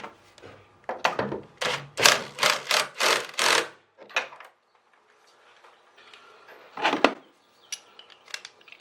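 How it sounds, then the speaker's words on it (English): An impact wrench tightens the strut top nut on an Audi TT MK1, firing several short rattling bursts up close, followed by a brief pause and one more burst. "I threaded the nut onto the top of the shock, and I'm just going to impact it on there"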